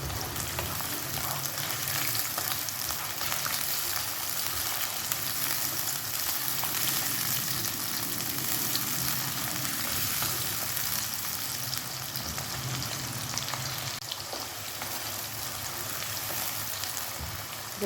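Chicken frying in a pan with onions, cooked for palak gosht, gives a steady, even sizzle that runs unbroken throughout with no speech.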